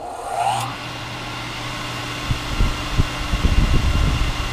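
An electric kinetic log splitter runs with no load. Its motor and flywheel make a steady mechanical hum, and it begins with a brief rising whine. Soft rhythmic knocks and thumps grow busier toward the end.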